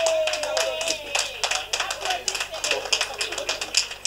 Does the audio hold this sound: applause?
yes